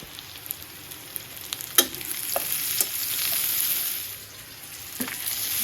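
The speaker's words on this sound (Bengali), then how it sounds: "সরিষার তেলেই রান্না করতেছি" Food fries in mustard oil with turmeric, salt and green chilli, giving a steady close sizzle with occasional scraping stirs and light clinks, and no voices.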